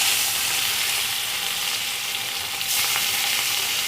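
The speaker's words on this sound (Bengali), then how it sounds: "মাছটা আমি ভেজে নেব" Fish fries one piece at a time in hot mustard oil in a kadai, with a steady, close hissing sizzle and a brief crackle burst partway through, with no talking.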